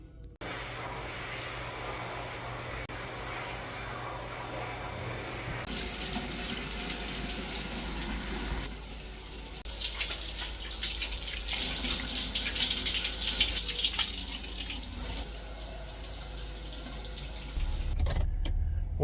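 Shower water runs steadily in a gym locker room at Planet Fitness, a continuous hiss that shifts in tone partway through as the flow changes, then briefly cuts out and resumes near the end.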